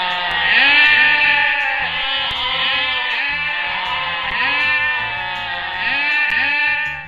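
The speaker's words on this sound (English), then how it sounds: "A shepherd with his army of goats stakes over the roads of the world." A shepherd's herd of goats bleats loudly and repeatedly on a roadside, overlapping wavering cries rising and falling in close succession with no pause.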